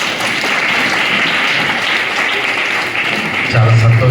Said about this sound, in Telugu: మీకు ఒకసారి చప్పట్లు కొట్టండి